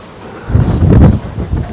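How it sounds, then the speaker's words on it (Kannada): Strong wind gusting across an open hilltop at a Lakshmi Ranganatha Swamy temple in Lokadoalau, a low rumbling buffet on the microphone that swells in the middle and stays loud, with no talking. "ಅತಿ ಹೆಚ್ಚು ಗಾಳಿ ಬರುತ್ತೆ ಇಲ್ಲಿ"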